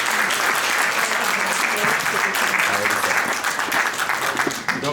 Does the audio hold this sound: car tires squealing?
no